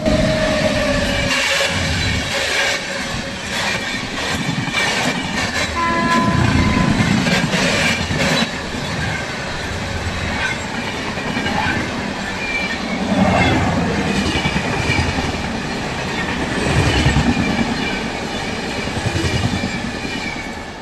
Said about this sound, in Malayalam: M G R Chennai central K S R Bengaluru Vrindavan express ആണ് ഇതാ വന്നുകൊണ്ടിരിക്കുന്നത്